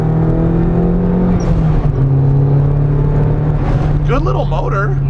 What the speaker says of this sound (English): Here's full throttle.